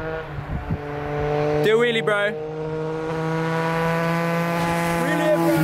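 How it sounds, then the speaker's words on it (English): An older Triumph Speed Triple motorcycle passes close by, its engine droning steadily with a rising and falling pitch as it goes, while someone speaks briefly over it near the start. "I think it was an older speed triple"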